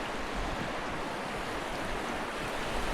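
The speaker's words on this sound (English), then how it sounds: "We got some good current running down through here." A fast-flowing current in the Malheur River, a desert river, rushes in a dense, steady broadband wash close by, with no voices.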